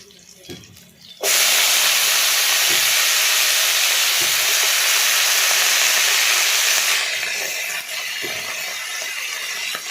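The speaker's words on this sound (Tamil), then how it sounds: "இப்போ வந்து சீனி இறங்க பொரியலுக்கு வந்து வெங்காயம் போட்டு வதக்கியிருக்கேன்" Onions and chopped vegetables hit hot oil with mustard seeds, green chillies and curry leaves for a Tamil poriyal: a sudden loud, hissing sizzle bursts in after a quiet start, holds steady for several seconds, then eases to a softer fry.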